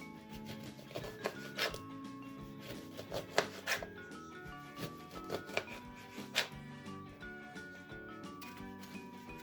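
A knife slices lemons into rings on a board, with light scraping cuts and occasional sharper taps at an irregular pace, close and fairly quiet.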